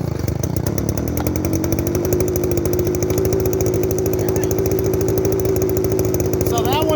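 A gas leaf blower with no primer bulb, started by pull cord on half choke, runs with a loud, steady, buzzing two-stroke drone whose pitch climbs slightly as it settles, close and continuous.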